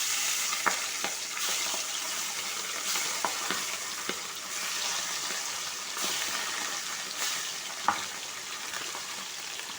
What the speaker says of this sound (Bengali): প্রথমেই কাতলা মাছগুলোকে আমি ভেজে নিচ্ছি।